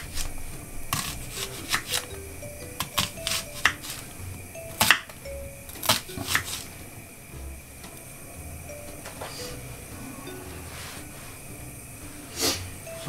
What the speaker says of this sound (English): We want our onions cut into rings.